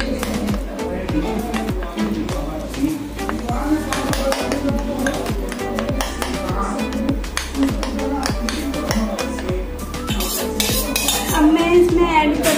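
A spoon scrapes and clinks continuously against a metal pot as a little milk is stirred into a cooking mixture. The clatter is close and busy, with faint voices in the background.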